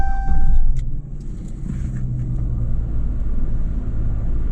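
A 2017 Dodge Challenger SXT coupe with a 3.6L V6 and 8-speed automatic fires up with a brief loud surge, then settles into a steady, low idle heard from inside the cabin.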